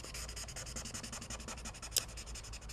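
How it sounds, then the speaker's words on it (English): Marker scribbling ink onto paper for a card craft project: rapid, rhythmic back-and-forth rubbing strokes, close and steady, with one sharp brief tap near the end. "I'm just going to scribble ink all over this"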